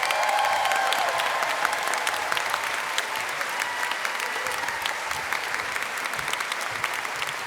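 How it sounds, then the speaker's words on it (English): An awards-ceremony audience applauds an Alumni Service Award winner, with sustained, even clapping from a large crowd filling the room throughout, without any speaking over it. "Let's give her a round of applause"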